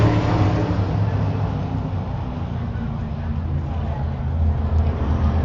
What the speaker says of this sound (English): These are the cars with the 12-inch wide tires and the 800 horsepower engines.